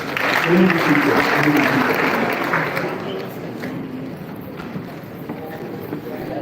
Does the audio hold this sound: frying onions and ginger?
no